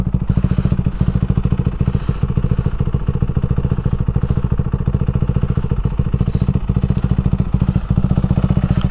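A modified KTM Adventure 390 motorcycle idles close by, its single-cylinder engine throbbing in a fast, even, loud beat with slight clatter throughout.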